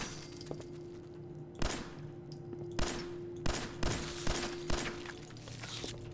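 Gunfire in Fallout 4: several sharp, loud shots spaced irregularly over a steady game ambience hum, with no talking.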